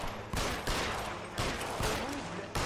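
Rapid bursts of gunfire erupt in a shootout in the video game L.A. Noire, with repeated loud shots recurring every half second or so.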